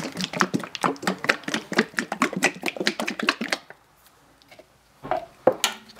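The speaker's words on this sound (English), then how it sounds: "We'll just shake up the paint here." A can of car paint shaken hard by hand, a rapid run of rattling clicks for about three and a half seconds, then near quiet broken by a couple of short knocks.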